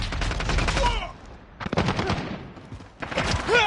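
Automatic gunfire bursts in Call of Duty Modern Warfare during a hardpoint match, three loud rattling volleys separated by short gaps, with crackling impacts and faint game chatter.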